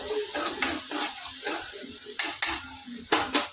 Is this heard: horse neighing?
no